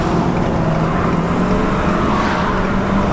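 A 2019 Ford F450 Lariat dually truck with a 6.7L diesel accelerates on an open highway. A loud, steady roar of engine and road noise fills the short stretch without pause.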